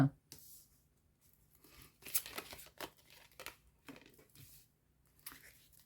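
Oracle cards from a lovers' oracle deck being drawn and handled, with several soft papery slides and flicks spread across the moments, fairly faint and close.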